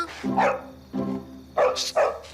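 A dog barks four times in short bursts, with brief pauses between them, close by and fairly loud.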